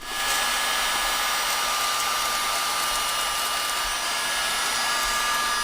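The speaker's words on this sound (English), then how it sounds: "And now a little time with the heat gun." A heat gun blows hot air in a steady, close, even whoosh with a faint tonal whine, running without pause while work goes on inside a project truck.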